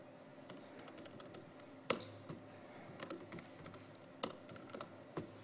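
Someone types a command line on a computer keyboard, with quiet clusters of key clicks and a few harder keystrokes in an irregular rhythm, close up in a quiet room.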